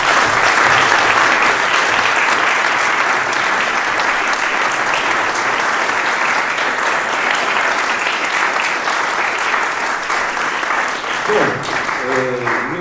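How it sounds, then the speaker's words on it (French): Loud, sustained applause from an audience at an award ceremony at France's Constitutional Council, steady clapping throughout, with a voice starting to speak near the end as it fades. "et qu'on peut applaudir tout de suite."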